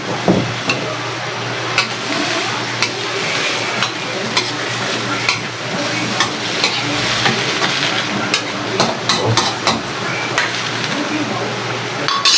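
Eggplant and string beans cooking in a pan, a continuous hissing sizzle broken by repeated scraping stirs and utensil clicks, with a voice talking over it.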